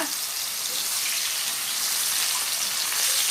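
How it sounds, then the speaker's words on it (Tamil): Mushrooms frying in hot oil in a pan as they are stirred: a steady, dense, close sizzle that holds evenly throughout. "இப்போ நம்ம வந்து மஷ்ரூம் போட்டுக்கலாம் இப்போ மஷ்ரூம் லைட்டாக வந்து நல்லா கிளறி விட்டுக்கோங்க"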